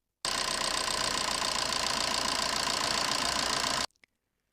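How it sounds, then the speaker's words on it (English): A car engine idles steadily at close range during a charging-system battery tester check, a continuous even hum that holds for several seconds and then cuts off abruptly. "ask the assistant to release the accelerator pedal and let the engine run at idle speed"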